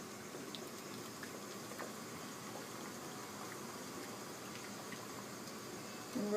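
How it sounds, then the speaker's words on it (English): Water at a rolling boil in a pot of hot water used for cutting glass bottles, a steady soft bubbling hiss that continues evenly throughout with no voices. "And we're at a nice boil in here."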